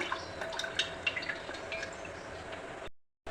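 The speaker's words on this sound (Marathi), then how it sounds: "आता पाणी पूर्णपणे निघू दे हे बघा" Water drains from curdled milk curd, trickling and dripping close by in a soft, irregular patter, then stops abruptly.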